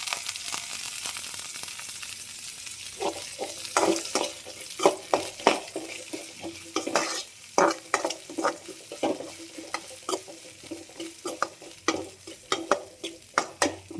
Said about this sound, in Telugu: ఆవాలు, ఆనియన్స్ అయితే వేసేద్దాం. కొద్దిగా కరివేపాకునే వేసుకుందాం.